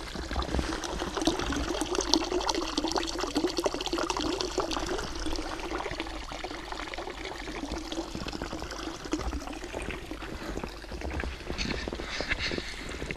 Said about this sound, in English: Somehow the pump is still running.